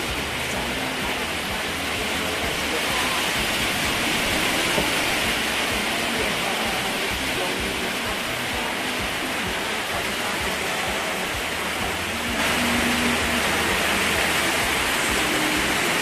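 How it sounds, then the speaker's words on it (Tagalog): Heavy rain pours steadily over a home in the Philippines, a dense, continuous roar with no pauses, loud and close throughout, with the wash thickening slightly near the end. "So yan, lakas po ng ulan po mga kalingap na."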